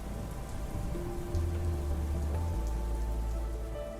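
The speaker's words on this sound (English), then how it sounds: "It started to rain." Steady rain patters on a surface, a continuous wash of drops with a low rumbling hum underneath.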